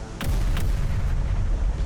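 HIMARS artillery in the game Terminator: Dark Fate – Defiance lets off two sharp booming reports in quick succession over a continuous heavy low rumble of battle.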